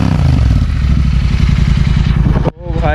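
A Royal Enfield GT 650 motorcycle with an Offtrails exhaust revs loud and bassy close to the listener, a dense rhythmic roar that cuts off abruptly, followed by a rising rev.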